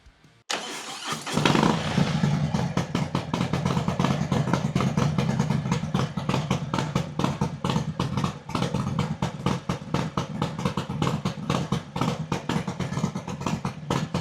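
A motorcycle fitted with a brand new Thundermax exhaust fires up and settles into a loud, steady, slightly rough idle, its low pulsing rumble close and alone with no talk for the rest of the run.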